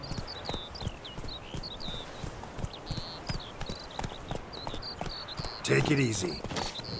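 Steady clip-clop of a horse's hooves at a walk in The Witcher 3, near and even, with birds chirping and a voice speaking briefly over it.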